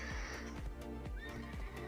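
A horse neighs and whinnies repeatedly while being tamed in the mobile game Black Desert Mobile, loud and close, with hoof clops underneath and game music running throughout.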